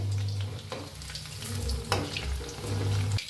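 Chicken 65 pieces deep-frying in hot oil, giving a steady close sizzle and bubbling throughout with no talking.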